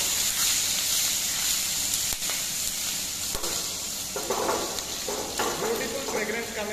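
Chopped ginger, garlic and shahi jeera sizzling in a hot pan, a steady bright hiss with soft stirring scrapes and small crackles, fairly quiet throughout.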